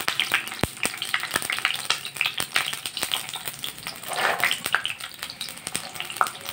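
Onion fries in two tablespoons of hot oil in a pan with a steady close sizzle, crackle and occasional stirring scrapes.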